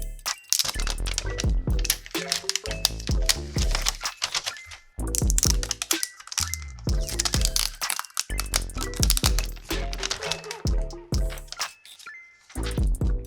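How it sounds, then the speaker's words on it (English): Plastic wrap torn and crinkled off the contents of an LG V60 ThinQ 5G phone box, a busy run of sharp crackles, snaps and taps, close and fairly loud, with no talking. "Time to rip some plastic."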